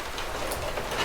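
Rain falls outdoors during a run, a steady broadband hiss with scattered patters and some wind-like rumble, close and continuous, with no voices.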